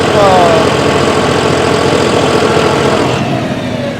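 A John Deere 5405 CRDi tractor engine runs loud and close with a steady diesel throb, the level easing slightly toward the end.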